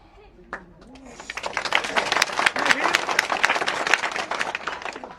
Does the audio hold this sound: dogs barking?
no